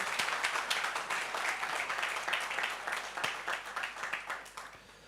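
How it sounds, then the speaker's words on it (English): Applause from an audience at a talk event, a steady wash of many hands clapping at moderate distance, fairly faint, with a few sharper claps standing out and fading near the end. "Let's give him a round of applause."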